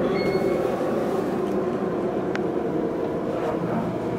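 An Otis Series 1 Elevonic 401 high-rise traction elevator from 1985 running at speed, a loud, steady low rumble and rushing roar heard up close, with a faint squeal and a brief click.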